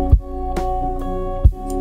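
A dry DI electric guitar signal, transposed up an octave and run through an amp simulator, plays sustained buzzy tones with a few plucked attacks, close and alone.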